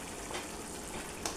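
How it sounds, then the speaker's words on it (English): Homemade Jamaican-style coconut oil heating toward a boil while being stirred, giving a soft, steady frying-like sizzle with faint stirring scrapes and one brief brighter clink near the end. "So I have to keep stirring it until it comes to a boil."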